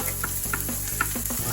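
Onion sweats in a pan with a brief, close sizzle and crackle, punctuated by a few soft stirring taps.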